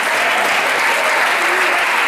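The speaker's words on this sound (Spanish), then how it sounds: "Pero denle un aplauso a Cristo Jesús." A church congregation applauds in a dense, steady roar of clapping that stays loud and even from start to finish.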